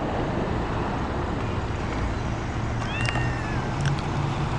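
A cat meows a few times, short rising calls set over a constant roar of road traffic outside. The meows are moderately clear against the steady background hum.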